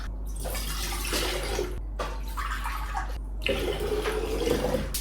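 Ginger kombucha is poured into a pitcher for a mocktail in three close splashing pours, each separated by a brief pause.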